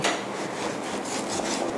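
A knife slices raw pork belly on a cutting board for a stir-fry with red curry paste and long beans, making a rapid run of scraping, tapping cuts close by with no talking.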